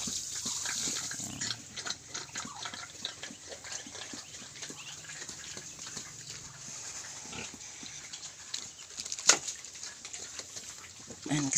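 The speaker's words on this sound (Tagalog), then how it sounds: "Lagyan natin ng tubig." Pigs, including a sow, eat from a trough on a rural farm while water is poured in, soft chewing and snuffling with faint grunts, quiet and close, plus a few louder knocks.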